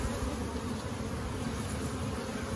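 A dense, continuous hum of honey bees fills the air at a hive opened for fall varroa treatment with oxalic acid strips, steady and close throughout.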